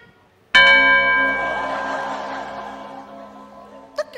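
A single bell is struck once during a comedic stage act: a sharp, loud ring that decays slowly into a long, shimmering sustained tone, with a faint click near the end.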